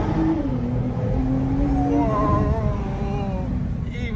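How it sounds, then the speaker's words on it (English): A Nissan GT-R R35 runs with a loud, continuous engine and exhaust roar, its tone rising and falling as it revs, and a sharper crackle near the end. "Oh, that crackle boom. That exhaust."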